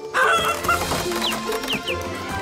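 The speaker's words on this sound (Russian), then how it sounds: "Надо спасти этого цыпленка." A cartoon chicken clucks in quick, close bursts of squawks and clucks, loud and lively, with a busy animated score underneath and no talking.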